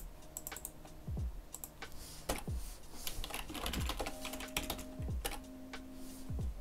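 Keys clatter in quick bursts on a computer keyboard while a sudo command is entered on a Linux machine, close and crisp over a steady electronic hum.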